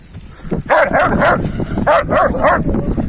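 A Kangal dog barks repeatedly in loud, close bursts, roughly in pairs with short pauses between, alongside occasional whimpering.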